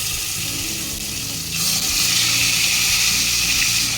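Freshly salted prawns dropped into hot mustard oil in a wok, a steady loud sizzle that swells into a brighter, hissing fry partway through, close up with no talking.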